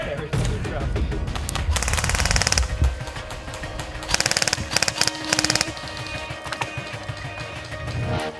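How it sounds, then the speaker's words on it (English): Airsoft guns firing in rapid bursts during an outdoor skirmish game, with several loud rattling strings of shots and voices shouting over the action. "Stainsy, put some fire down on the low ground."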